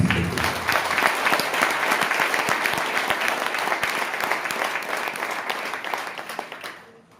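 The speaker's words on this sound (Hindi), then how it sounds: "ताली तो बजा दो यार" An audience at a Hindi-language direct-selling seminar claps steadily for several seconds, a dense continuous applause that fades out near the end.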